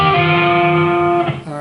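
Distorted electric guitar playing a hammer-on riff, with a sustained, loud, harmonically rich chord ringing before the notes shift near the end, alone and without voices.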